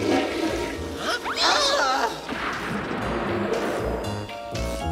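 Cartoon toilet flushing sound effect, a loud swirling rush of water with gurgling surges that fills most of the clip, followed by rumbling and brief animal-like roars.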